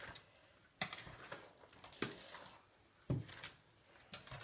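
Christmas pudding batter of dry ingredients, eggs, milk and brown stout being stirred in a bowl, heard as several separate bursts of scraping and clinking against the bowl, fairly close and moderately loud with quiet gaps between.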